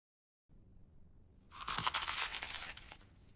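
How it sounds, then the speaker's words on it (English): A crunchy apple is bitten: after a quiet stretch, one sharp, close crunch bursts out and then crackles briefly as the piece breaks off, with no voices. "I bite the crunchy apple."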